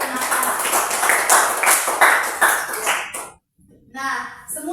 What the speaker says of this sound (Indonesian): tepuk tangan untuk teman-teman yang sudah pernah menggunakan